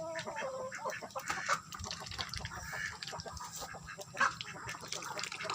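Asil chickens clucking and calling in a busy farmyard, several birds overlapping in short bursts with a steady background murmur.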